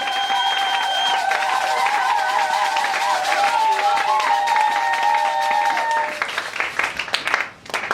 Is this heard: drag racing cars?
no